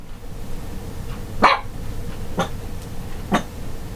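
A dog barks three times, sharp and fairly close, spaced about a second apart over a low steady background hum, with no speech.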